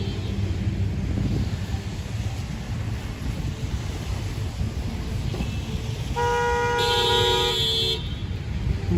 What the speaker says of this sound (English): looks like we got a big traffic jam here